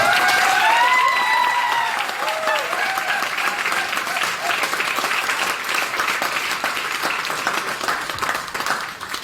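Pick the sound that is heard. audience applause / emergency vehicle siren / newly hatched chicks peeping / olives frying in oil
audience applause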